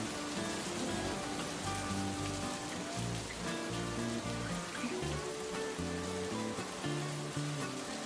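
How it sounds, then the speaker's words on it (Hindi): Heavy rain pours onto a stone roof over an underground bamboo roadside eatery, a dense, steady, loud wash of drops echoing inside for the whole stretch with no pauses. "तहखाने की पत्थर की छत के ऊपर गिरती तेज बारिश अंदर गूंज रही है।"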